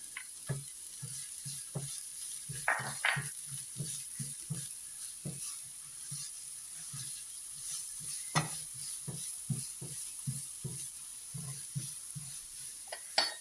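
Finely chopped onion sautés in a tablespoon of olive oil, with a low steady sizzle running under repeated soft stirring taps and scrapes, close and quiet throughout.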